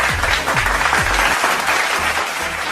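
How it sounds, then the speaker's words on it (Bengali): A crowd claps steadily at a shop opening ceremony, where a guest is honoured with a badge and handed a hand fan as a gift. The applause is dense and continuous, and low sliding tones sound beneath it. "সবাই মিলে হাততালি।"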